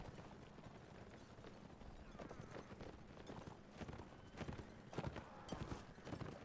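Horses at a Napoleonic-era historical reenactment event clatter past in a brisk, irregular clip-clop of hooves that grows louder toward the end, with occasional faint voices in the background.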